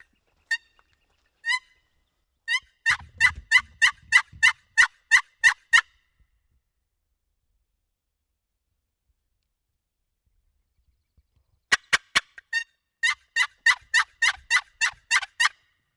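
Wild mountain turkeys gobble in the open, loud rattling bursts in two clusters, first sparse then a rapid run of calls, a long silent gap, then another quick series, with no talk.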